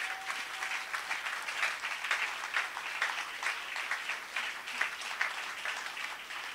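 A church congregation applauds and acclaims the Lord in steady, continuous clapping, a full even wash of many hands at moderate distance that holds without pause throughout.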